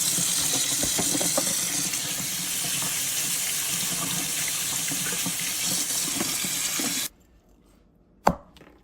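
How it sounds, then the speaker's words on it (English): Steady cold tap water splashes loudly over lobster pieces for about seven seconds, then cuts off, followed by quiet and a single sharp knock. "Give the lobster pieces a quick rinse under cold water"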